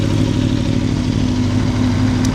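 An Aprilia Tuono V4 Factory motorcycle with an Akrapovic exhaust runs with a loud, steady, close engine rumble and no clear revving or speech.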